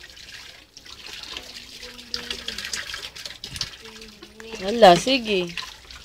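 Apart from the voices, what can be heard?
water being poured for a bath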